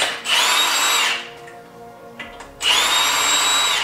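Two loud bursts of a power tool whining and rattling as it spins off lug nuts on a 2009 Toyota Corolla, separated by a short quieter pause.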